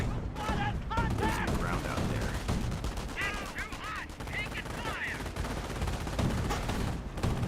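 MG42 machine guns rattle in the video game Company of Heroes, with steady distant bursts of gunfire and chirping battle sounds under continuous battlefield noise while a commentator talks over it.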